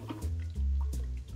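Gin poured into a measure while mixing a cocktail, a short soft liquid trickle with a brief drip, quiet and close.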